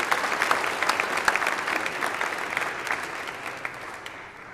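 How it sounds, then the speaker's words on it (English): A church congregation at a Life Teen Mass gives a round of applause to welcome visitors: many hands clapping in a sustained, fairly loud burst with a few sharper individual claps, tapering and fading out near the end. "give a nice round of applause to those who"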